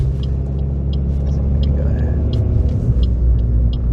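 A car pulls away and accelerates across a roundabout during a driving lesson, its steady low engine rumble and road noise filling the cabin throughout, with the instructor's and learner's voices heard softly over it.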